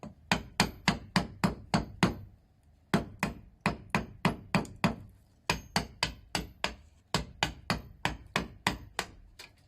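A wood chisel is driven into wood for a cam clamp with rapid bursts of sharp mallet strikes, about six to eight blows per run, separated by short pauses, close and crisp with no talking.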